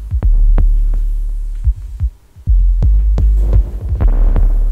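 A minimal kick drum and bass groove pulses in an uneven, repeating rhythm, with echo and spring reverb trailing the hits and a low throbbing hum between beats.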